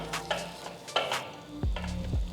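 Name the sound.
lentil pancake sizzling in pan as it is flipped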